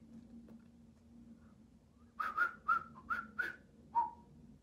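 A person whistles a short tune of five quick bright notes followed by a final held note, close and clear over a quiet room background, with no talking.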